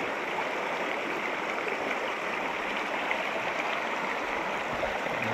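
A strong stream current rushes steadily over rocks outdoors, a dense, continuous loud wash of flowing water with no pauses and no voices.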